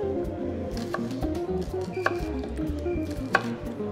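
A knife chopping fine spring onions on a board in a kitchen, a run of steady, close taps with a few sharper knocks, over a low background hum.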